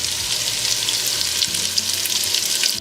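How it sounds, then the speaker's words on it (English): Potatoes fry in hot olive oil and butter, giving a steady, close crackling sizzle that holds evenly from start to finish with no voices. "this is nice and hot, so let's add in our potatoes"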